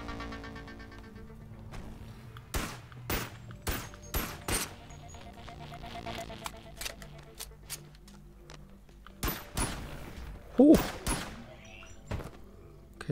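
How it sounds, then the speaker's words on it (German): Enemy gunfire in the VR shooter Boneworks, set in a sewer level: sharp, loud shots ring out in scattered single cracks and short bursts, separated by quieter gaps of low background hum. "Der schießt auch."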